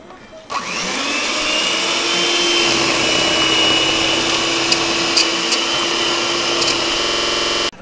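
An electric mixer whirs steadily through cookie dough with eggs being added, a loud continuous motor drone that starts abruptly, runs evenly with a few small clicks and knocks, and cuts off at the end.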